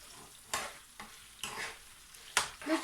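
Meat browns in a pan for Syrian kibbeh while a spoon stirs it in about five short, scraping strokes over a soft sizzle, fairly quiet and close.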